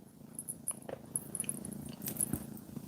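A cat purrs close to the mic, a steady low rumbling purr running throughout with faint clicks and high chirps over it.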